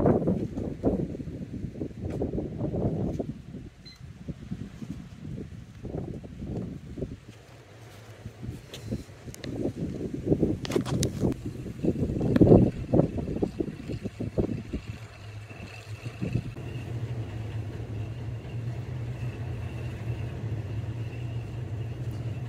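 A home wind turbine in the UK spins up after its brake is released, giving a steady low whirring rumble that builds and holds over the second half, with gusty wind noise and rustling around it.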